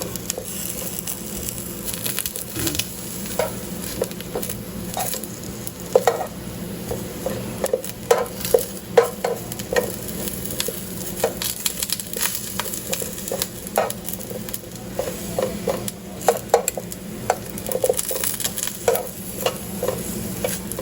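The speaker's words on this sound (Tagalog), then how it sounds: "3 minutes idadaan mo lang siya sa mantika" Pieces of batuan-based sinigang ingredients fry in hot cooking oil for about three minutes, a steady sizzle broken by frequent crackling pops and occasional stirring clatter, close up with no voices.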